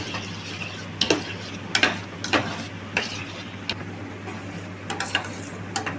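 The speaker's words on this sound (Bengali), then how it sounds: "আমি এইভাবে একটু নাড়াচাড়া করবো ভালো করে প্রথমেই" Soft dragon fruit pulp is stirred in a bowl with a utensil, making repeated clicks and scrapes at irregular intervals over a low steady hum.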